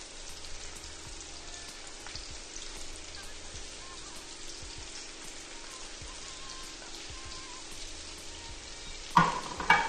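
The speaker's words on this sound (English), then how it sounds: "Right now our beef is well coated in the flour and we're going to dip it into a hot pan" Flour-coated pieces of beef fry in a hot pan with a steady, crackling sizzle that stays even throughout. Near the end there are a few louder clatters.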